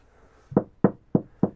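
Four hollow knocks on a thin fiberglass boat hull, evenly spaced and close, each a short resonant thump with no talking.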